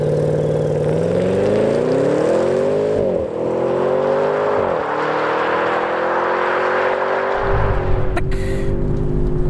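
An Audi S8 with a 4.0 V8 TFSI engine and quattro drive accelerates hard in dynamic mode. Its loud, rising engine note climbs through several gear shifts with brief dips between them, and a short spoken word comes near the start.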